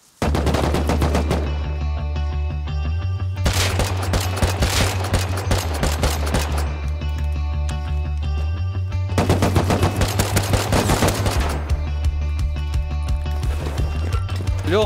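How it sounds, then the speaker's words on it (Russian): Long bursts of AK rifle fire in the video game Rust repeat loudly over a steady low rumble, with pauses between sustained volleys. "слышу выстрелы из калаша"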